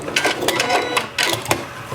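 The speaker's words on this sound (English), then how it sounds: "when I get to the end, I'm back stitching a couple again to lock it in" Sewing machine back stitching at the end of a seam to lock it, a few short rapid bursts of needle clatter separated by brief pauses, fairly close and moderately loud.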